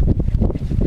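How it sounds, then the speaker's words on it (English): Gusty wind buffets the microphone outdoors while fiberglass boat gel coat is mixed, a steady low rumble with rising and falling surges, loud and close, with no talking. "Of course the wind's picking up"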